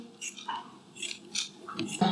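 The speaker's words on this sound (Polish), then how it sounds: "Będziemy obierać ziemniaczki" Short, repeated scraping strokes of a peeler or knife against a potato, coming in irregular bursts, close and fairly quiet.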